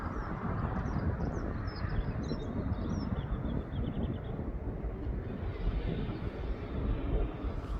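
A Jet2.com jet airliner climbs out of East Midlands Airport as a steady, broad roar heard from a distance, constant throughout with faint bird chirps above it and light wind on the microphone.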